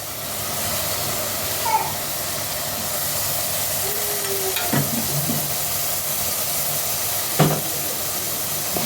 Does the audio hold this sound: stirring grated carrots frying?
yes